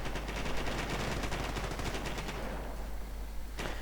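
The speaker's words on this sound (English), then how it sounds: "Pioneers getting stopped by the heavy machine gun and getting burned alive" Heavy machine gun, an MG42, firing in a World War II style video game battle, one sustained rapid burst of loud, dense gunfire that cuts off sharply near the end.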